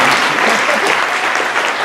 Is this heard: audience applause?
yes